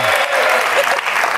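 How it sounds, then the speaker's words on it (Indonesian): Studio audience on a family game show applauding a contestant, with steady, close clapping throughout and faint voices mixed in. "Tepuk tangan untuk Arfi."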